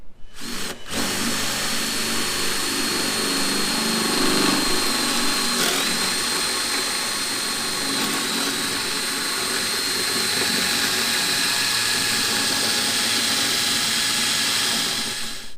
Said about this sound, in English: I just drilled all this out